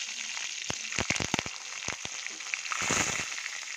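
Garlic pods and curry leaves dropped into hot oil already spluttering with mustard and cumin, a close, bright sizzle with sharp crackling pops that swells toward the end.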